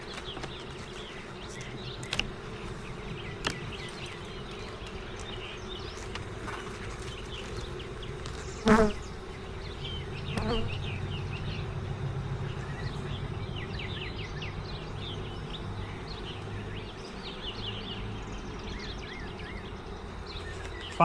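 Honeybees buzzing during a beehive inspection: a soft, continuous insect hum outdoors, with a few sharp knocks and a brief louder thump partway through.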